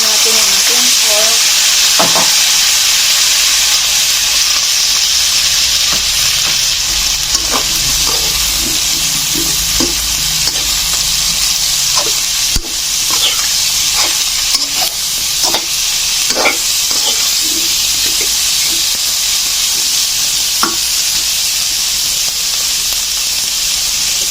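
Pork sizzling and frying in a pan for Filipino pork kaldereta: a loud, constant crackling hiss fills the scene, broken by scattered spatters and occasional clinks of stirring.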